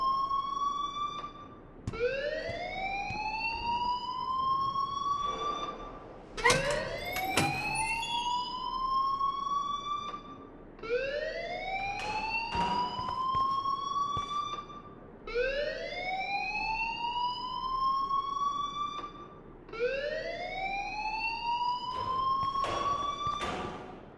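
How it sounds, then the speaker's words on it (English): A loud wailing alarm in the video game Life is Strange rises in repeated upward sweeps, about five long cycles with brief gaps between them, ringing on continuously with no voices. "please turn off that alarm since that's your job"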